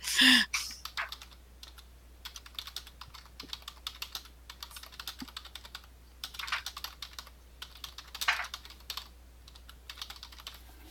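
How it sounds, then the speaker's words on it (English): Keys clatter on computer keyboards during an online tabletop game session, quick irregular bursts of clicks picked up through a microphone, close and fairly quiet, with brief pauses between flurries and no talking. "the biggest problem is going to be hearing people typing"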